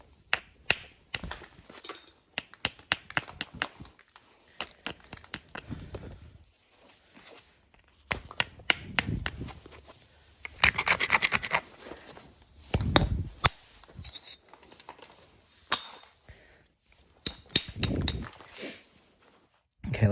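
Sharp clicking taps of an antler striking a stone edge during flintknapping trimming, coming in irregular clusters with scraping, while someone talks intermittently.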